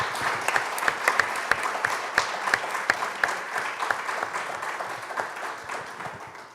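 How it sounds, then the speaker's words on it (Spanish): Audience applause at an evening gathering in Rosario, steady clapping from a crowd that holds for several seconds and slowly fades toward the end. "un aplauso"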